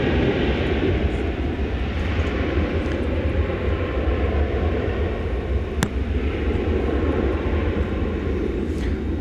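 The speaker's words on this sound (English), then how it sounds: "American Flight 711 is about to go out to Ontario, California." An American Airlines jet departing Dallas Fort Worth airport at night for Ontario, California: a steady, heavy low engine roar holding at one level throughout, with a faint brief click partway through.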